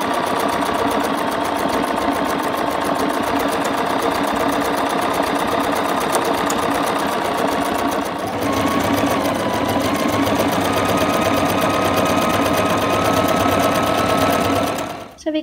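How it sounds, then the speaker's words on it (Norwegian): A Bernina sewing machine stitches a Spanish hemstitch, humming and ticking rapidly at a slightly uneven speed for a long continuous run, close up, stopping abruptly at the end; a voice talks faintly over it. "hvorfor jeg syr litt ujevn hastighet, så er det fordi jeg står og syr"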